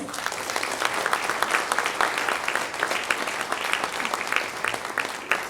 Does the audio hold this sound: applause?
yes